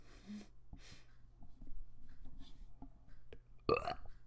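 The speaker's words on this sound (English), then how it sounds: "Burping because I'm drinking this aloe vera drink too fast." A single loud, close burp near the end from drinking an aloe vera drink too fast, following quiet breathing and small mouth noises over a low background hum.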